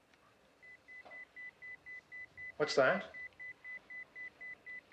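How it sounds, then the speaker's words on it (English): A pager beeps in a steady run of short, evenly spaced electronic tones, briefly interrupted while a nearby voice asks a question, then resuming at the same pace. "That's a beeper."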